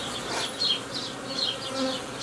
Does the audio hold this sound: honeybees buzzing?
yes